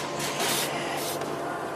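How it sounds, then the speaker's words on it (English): A soap factory machine cuts round bars of soap out of a long billet, giving a close, steady mechanical hiss and rubbing sound with a couple of brighter swells. "This machine cuts round bars of soap out of the billet."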